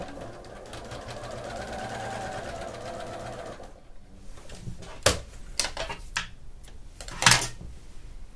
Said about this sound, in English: So then we're going to finish sewing it on.